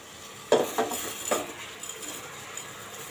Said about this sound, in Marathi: मिक्स करून घेऊया तांदूळ